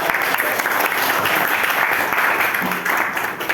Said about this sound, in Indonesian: Perfecto, tepuk tangan.